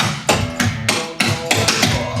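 Clogging taps from an easy intermediate class sound as loud, sharp percussive strikes on a hard floor, about eight hits in an uneven pump-and-touch rhythm, close and with no talking.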